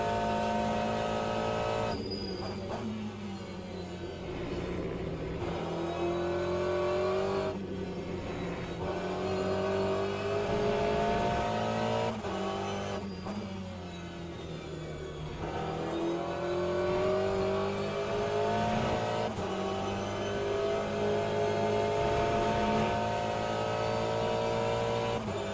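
Damaged Lamborghini race car lapping Spa in a racing video game, the engine revving up and down through gear changes with a continuous loud whine, alone with no talk.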